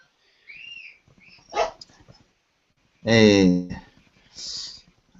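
A pet dog whimpers with soft high whines, then lets out one loud, close bark, with a person talking around the dog's sounds.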